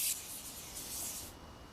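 A pressure washer in the game PowerWash Simulator sprays water in a steady, bright hiss that runs unbroken and fairly quiet, then thins out near the end.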